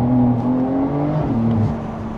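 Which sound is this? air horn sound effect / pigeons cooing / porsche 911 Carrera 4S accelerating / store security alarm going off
porsche 911 Carrera 4S accelerating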